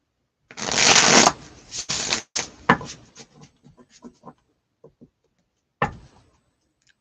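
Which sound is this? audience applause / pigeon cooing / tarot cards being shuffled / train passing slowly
tarot cards being shuffled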